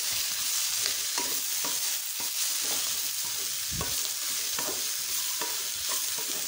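A spoon stirs turmeric, red chilli and coriander powder into fenugreek leaves in a frying pan, with repeated scraping strokes over a continuous sizzle, close and fairly loud.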